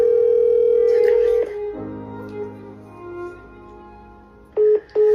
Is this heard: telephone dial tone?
yes